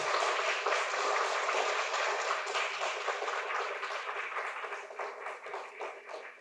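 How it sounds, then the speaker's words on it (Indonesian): Audience applause welcoming Felix Edon at a traditional Manggarai music cultural event in Ruteng, a steady dense wash of many clapping hands that holds for several seconds and gradually thins toward the end. "Kita beri sambutan dengan tepuk tangan yang meriah untuk Pak Felix Edon."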